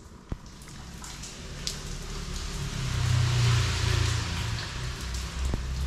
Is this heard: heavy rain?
yes